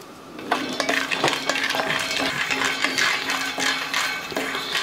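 Peanuts and sesame seeds dry-roast in a pan, a dense continuous rattle and clatter of seeds shifting and ticking against the metal, with faint tapping of a utensil throughout.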